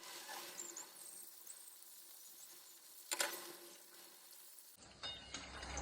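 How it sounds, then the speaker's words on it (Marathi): Vadas drop one by one into hot mustard oil and fry with a soft, steady sizzle. A brief crackling burst comes in the middle, and a louder clatter of handling follows near the end. Quiet and close. "राईचं तेल चांगलं गरम झालंय आणि आता हे एक एक वडे सोडवते."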